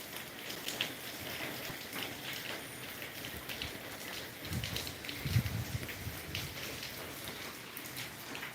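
Light rain patters steadily on surfaces, soft and diffuse, with a few slightly louder drops and rustles, no voices.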